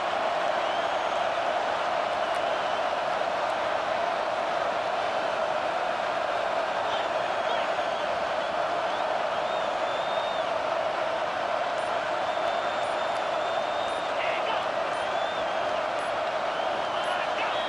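A stadium crowd in EA Sports College Football 25 roars at a constant, loud level during a fourth-down play, forming a dense wall of noise that never lets up.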